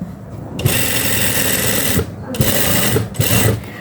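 A sewing machine stitches a hidden zipper in quick motor bursts, starting, pausing and speeding up again, with someone talking over the steady whir.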